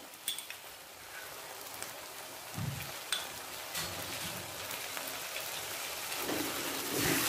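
Soya curry spices with green chili paste and yogurt are stirred in a pan on the gas, a soft scraping and sizzling wash with occasional louder scrapes, close and continuous without speech.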